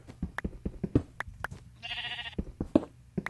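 A blocky Minecraft sheep gives one short, nasal bleat in the middle, set among sharp, rapid knocking and tapping sounds from the game.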